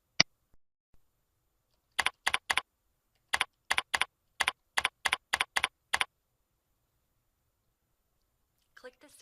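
Keys clatter on a computer keyboard in quick bursts of clicks, several short runs of typing separated by brief pauses, close and clear in an otherwise quiet room.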